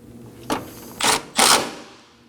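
A 10mm bolt on a 2017-2024 Nissan Armada headlight assembly is snugged with a ratchet, heard as three short bursts of close mechanical clicking, the last one the longest and loudest.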